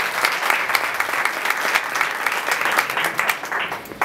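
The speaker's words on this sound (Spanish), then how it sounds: "un fuerte aplauso." An audience at a live Spanish music show applauds loudly and continuously, dense close clapping from a large crowd with no break.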